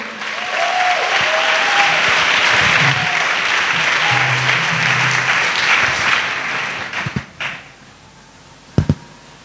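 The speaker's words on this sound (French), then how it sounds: "Offrande d'acclamation à Jésus-Christ." A church congregation applauds in praise to Jesus Christ, a loud sustained clapping lasting several seconds before thinning out into a few scattered claps and knocks, with faint voices underneath.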